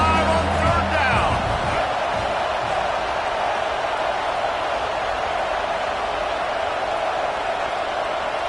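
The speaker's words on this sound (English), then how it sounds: "The Buckeye crowd alive on third down." A huge Ohio State Buckeye football stadium crowd roars steadily on a third down, a dense sustained wash of cheering with a band briefly audible at the start and a commentator talking over it.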